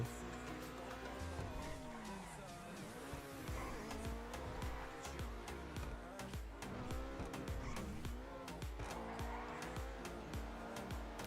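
An electric car is driven in a racing video game, with rapid tire squeals, skids and a whining motor running continuously and busily, game music and effects layered beneath.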